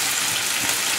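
Water is poured into a pan of vegetarian kofta curry with ground spice pastes, a brief, loud, steady splashing gush close by.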